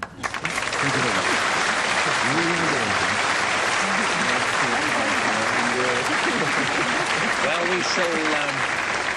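Studio audience applause on a 1970s television panel game, loud sustained clapping throughout, with someone talking over it.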